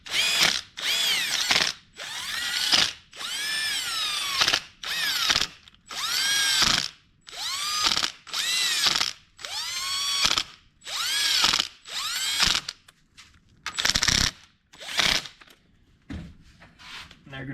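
A power impact gun runs down bolts on a Chevrolet TH350 automatic transmission in repeated loud, close bursts of about a second each with short gaps, a dozen or so in sequence, the later ones shorter and choppier.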